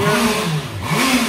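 Honda CB650R on its stock exhaust, revved in two quick blips, loud and close, with the engine note dipping briefly between them.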